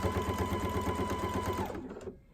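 A sewing machine stitches down fabric binding in a fast, even mechanical whir close up, running for under two seconds before stopping.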